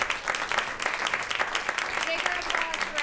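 Conference audience applauding, a dense steady patter of clapping that continues through the whole stretch, moderately near, with a voice speaking over it.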